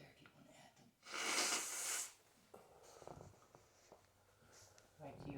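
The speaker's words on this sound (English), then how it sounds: "got to blow my nose" A man blows his nose once, a loud, rough honking burst lasting about a second, followed by quieter sniffs, breathing and faint rustling in a quiet room.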